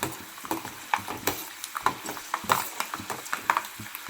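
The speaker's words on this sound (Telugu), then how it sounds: "పల్లీలు వేసుకున్న తర్వాత అయితే ఇలా కలుపుకోవాలి" Peanuts fry with mustard seeds and cumin in a pan, a soft crackling sizzle under a steady series of quick scraping and knocking stirs from a spoon.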